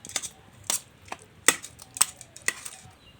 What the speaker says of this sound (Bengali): এবার আমি হাতার সাহায্যে একটু ব্লেন্ড করে নেব।